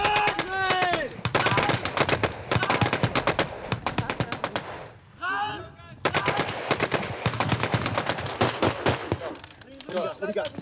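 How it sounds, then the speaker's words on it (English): Machine gun firing in rapid bursts during military troop training, loud and close, with short pauses between volleys and a voice speaking briefly in the middle. "Machine gun right there."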